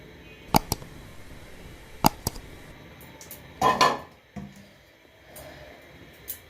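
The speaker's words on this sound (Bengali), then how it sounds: "এবার এটা আমি মুখ বন্ধ করে দিব।" Lid being closed on a container of mustard-oil-dressed hilsa fish set up for steaming: a few sharp metallic clicks and taps, then a brief scraping clatter, all close and fairly quiet, with no talking.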